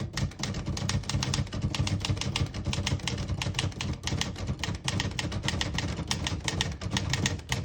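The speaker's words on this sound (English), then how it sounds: "Absolutely beautiful typing machine." Rapid, steady typing on a 1972 Olivetti Lettera 31 portable typewriter, crisp mechanical keystrikes clattering close and loud in a continuous rhythm with no voices over it.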